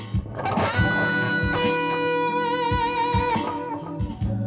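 Electric guitar lick with sustained bent notes and wavering vibrato, played alone and fairly loud, with a few picked notes between bends.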